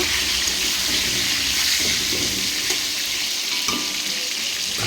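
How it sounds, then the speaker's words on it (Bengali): Potatoes for a meat curry fry in a wok (kadai) with a steady, dense hiss of hot-oil sizzle. Occasional stirring scrapes and clinks break the constant crackle. "মাংসের আলুটা ভাজতে বসিয়ে দিয়েছি"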